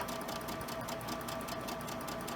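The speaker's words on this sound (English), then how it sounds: "here is where our line of stitching is. So I'm going to go over the top of that." A sewing machine stitches steadily over an existing line of quilting on an autumn quilt, its fast even whir and needle clatter continuous and close, with no talking.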